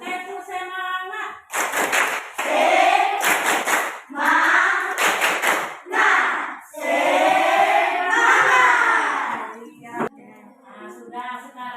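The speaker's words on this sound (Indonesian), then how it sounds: "Sekarang kita tepuk semangat." A group does a rhythmic spirit clap (tepuk semangat) during a school activity session: sharp bursts of hand claps in short patterned sets, mixed with loud group chanting and voices, close and lively throughout.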